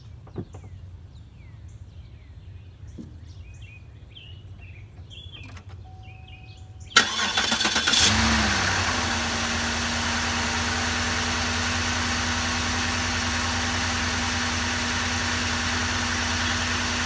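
A 2007 Cadillac DTS, after an alternator replacement, cranks briefly and starts with a loud burst, then settles into a steady, even idle close by, following quiet clicks and small noises beforehand.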